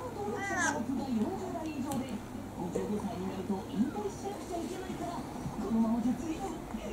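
Cats begging for sashimi, several short high meows and mewing calls scattered over a busy indoor background, with people talking throughout.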